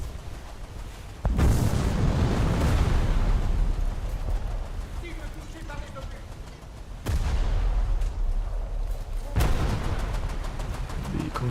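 French warship guns firing shells in a naval battle game, with heavy booming salvos that arrive as sudden loud blasts followed by rumbling decay, alongside a voice talking.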